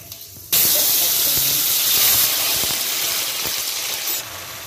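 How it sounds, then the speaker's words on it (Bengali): Five-spice seeds, dried chilli and a bay leaf hitting hot mustard oil, a sudden loud hissing sizzle that starts abruptly and holds steady, close up, fading slightly toward the end. "এবার এখানে আমি 5 ফোড়নটা দিয়ে দিচ্ছি, তার সাথে শুকনো লঙ্কা এবং যে তেজপাতাটা রেখেছিলাম সেটাও ফোড়নে দিয়ে দিলাম।"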